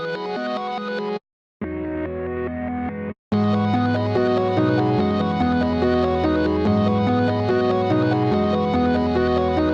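A dense, effect-laden resampled melody reversed in a sampler, tones swelling rather than striking, cut by two brief dropouts of silence near the start.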